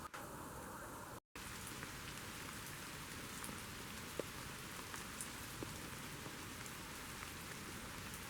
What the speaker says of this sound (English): Absolutely chucking it down now.